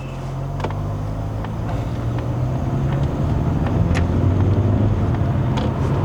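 A Mazda CX-30 with a naturally aspirated engine and 6-speed automatic in sport manual mode drives uphill with a window open, giving a steady, building engine drone with wind and road noise throughout.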